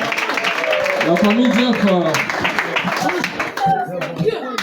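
A church congregation breaks into steady, dense clapping and applause throughout, heard close under a voice talking over it.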